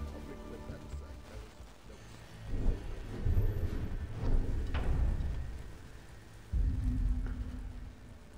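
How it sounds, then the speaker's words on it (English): Steady rain falls outside, a broad hiss of drops on surfaces with swelling low rumbles like distant thunder rising and fading across the stretch, heard alone without clear talk. "Oh, it's raining outside."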